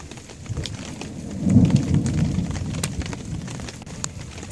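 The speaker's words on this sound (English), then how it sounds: "as you can hear in the background, we've got quite a storm going" A thunderstorm rolls over an outdoor shelter, with steady rain hissing on surfaces and a deep rumble of thunder swelling in the middle before fading back under the rain.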